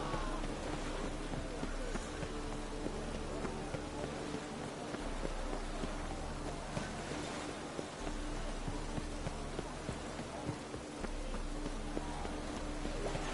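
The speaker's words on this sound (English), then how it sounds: "Oh, raining again." Steady rain patters over a constant background in the video game The Witcher 3, with faint hoof-like clopping and footstep sounds mixed in throughout.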